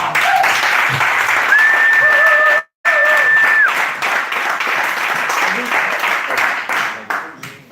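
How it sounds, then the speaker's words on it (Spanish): Audience applause for Toni Lomba at a Galician preview show, a broad sustained wash of clapping filling the room, with a brief dropout partway and steady clapping resuming afterward. "Un forte aplauso para Toni Lomba"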